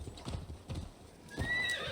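Horse in the video game Assassin's Creed Valhalla: a few loud close hoof clip-clops, then a shrill whinny near the end, with no talking over it.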